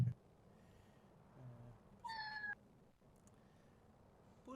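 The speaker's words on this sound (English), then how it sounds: "I love that I hear the cat." A cat gives a short meow partway through, sounding fairly near against a low room hum, with a few faint rustles and no talking.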